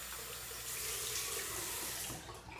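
A tap runs steadily as a cold towel is rinsed to wash off excess shaving soap. The water flows alone and fairly quietly throughout, easing slightly near the end.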